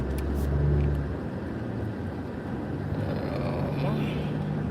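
Midday Dallas city traffic is heard from inside a car: a steady low road and engine rumble with a slight swell near the start, muffled by the cabin.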